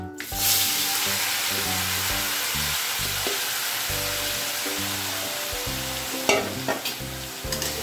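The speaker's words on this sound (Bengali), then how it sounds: "কড়াইয়ের তেলটা গরম হয়ে গেছে। এবার আমি এর মধ্যে চিকেনটা দিয়ে দেবো" Marinated chicken, coated with onion, ginger, garlic, garam masala, pepper and bay leaf, sizzles and fries steadily in hot oil in a wok, with stirring and scraping clatter rising near the end.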